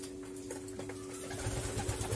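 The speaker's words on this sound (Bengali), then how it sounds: "দেখুন এখন সব কবুতরগুলো খাওয়া দাওয়া করতেছে" Pigeons feeding give soft cooing. The low calls are faint and repeated, and they grow more frequent toward the end over a steady hum and broadband background noise.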